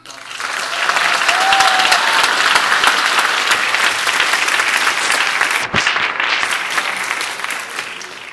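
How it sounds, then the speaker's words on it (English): Audience applause at a theater arts reunion gathering for current students, a steady, dense clapping that fills the room for about eight seconds with a brief dip near the end. "let's give them a round of applause."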